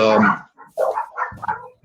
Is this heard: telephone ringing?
no